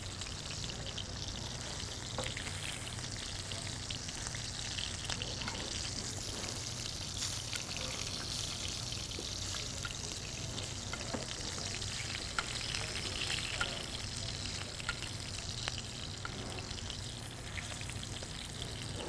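Ribeye steak sears in a hot pan with garlic on top, giving a loud, steady sizzle and crackle that runs unbroken throughout with no voices.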